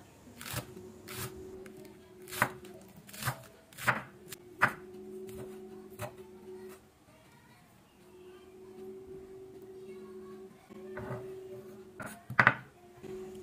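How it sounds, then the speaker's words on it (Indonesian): Green onions chopped finely with a knife on a cutting board, a series of close, crisp knife taps in uneven bursts separated by short pauses, set against a faint steady hum. "Daun bawang ini akan kita iris-iris tipis. Nah, biar kerjaannya lebih cepat, kita potong-potong dulu. Lalu kita cacah kecil-kecil ya"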